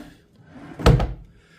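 A hotel room drawer slides and knocks shut with a quick double thump, close and sharp, preceded by faint rustling in an otherwise quiet room.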